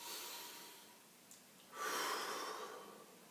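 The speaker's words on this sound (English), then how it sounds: "And then take a deep breath in." A single slow deep inhale drawn in through the nose, soft and close, rising in the second half over a quiet room with a faint earlier breath before it.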